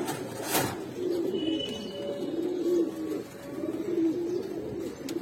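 Bagha pigeons, a big-sized pair, coo in repeated low rolling phrases close by, steady through the stretch, with a brief louder flutter or knock near the start.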